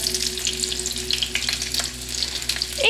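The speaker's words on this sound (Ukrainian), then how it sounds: "Точніше, більше обсмажується кляр, ніж сама капуста" Battered cauliflower sizzling in oil in a frying pan, a steady close crackle with small bright pops scattered throughout, no voices.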